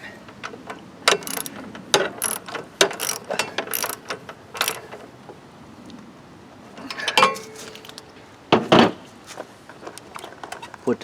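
A ratchet tightening bolts during snow blower service, Troy-Bilt Storm and Toro units, clicks in quick close bursts separated by pauses, with a cluster of sharper clicks near the end.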